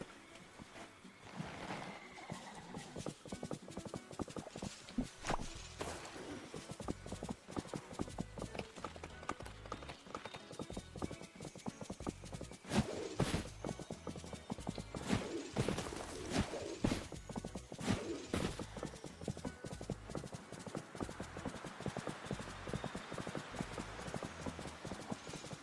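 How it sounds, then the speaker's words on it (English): Horse hooves clip-clop steadily in the Disney Dreamlight Valley video game, a continuous rhythmic trotting close up that runs throughout with no talking over it. "and then mount the horse again"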